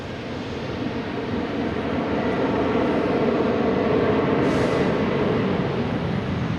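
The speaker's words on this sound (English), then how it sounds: "we got WestJet here" A WestJet airliner at Boston Logan Airport makes a continuous, broad jet roar that swells slightly and stays steady throughout, heard alone without talk.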